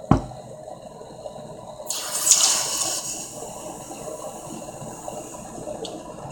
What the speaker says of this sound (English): And now we can take our bowl of water.